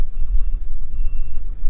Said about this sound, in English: This one is powered by a Kohler gas engine.